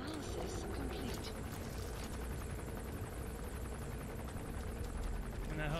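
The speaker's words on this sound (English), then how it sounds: "that helicopter's really hanging low around this area" A helicopter flying low in the video game Metal Gear Solid V: The Phantom Pain, its rotor chopping steadily and loudly overhead throughout, a dense thudding drone that stays constant without fading.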